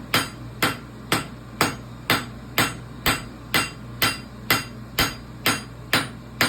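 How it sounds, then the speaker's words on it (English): A hammer strikes metal about a dozen times in a steady, even rhythm while forging a horseshoe heel, each blow ringing sharply and close, with no talking. "I always take my hammer and I immediately start to run down that outside"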